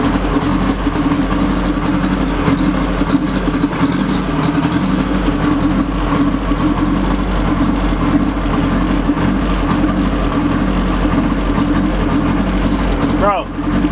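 A K-swapped Toyota MR2 with a Honda engine runs at a steady, loud idle just after its first start-up, a continuous low rumble close by with no change in pace throughout.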